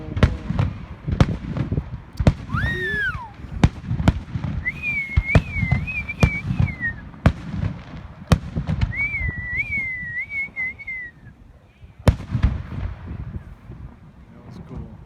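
Fourth of July fireworks go off at an outdoor show, with repeated sharp booms and cracks, some distant and some closer, along with a couple of rising whistles. A crowd murmurs underneath throughout.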